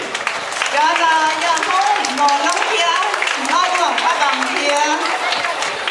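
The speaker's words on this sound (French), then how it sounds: "Alors, à vous deux, applaudissez." Audience clapping for a newly arrived couple at a French Guiana community gathering, a steady broad patter of many hands under a loud speaking voice and crowd chatter throughout.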